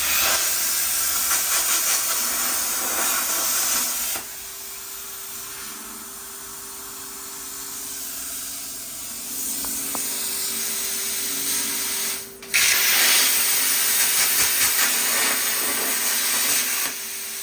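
CNC plasma table cutting steel parts for a C10 custom four-link build, making a loud continuous hiss and roar with steady tones, dropping in level midway, then surging back strongly after a brief break.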